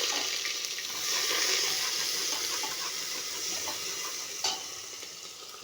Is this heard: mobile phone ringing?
no